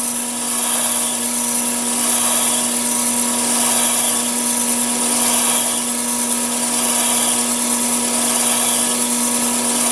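A gemstone faceting machine cuts the next tier with a heavy grit lap, giving a steady, loud whirring drone with a constant motor hum, continuous and unbroken throughout with no talking.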